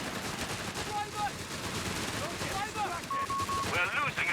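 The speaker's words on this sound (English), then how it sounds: "Big old SMG fest over here." Dense submachine-gun fire and scattered shots in a Company of Heroes 3 multiplayer battle, a continuous loud din of gunfire layered with game effects and brief tonal cues.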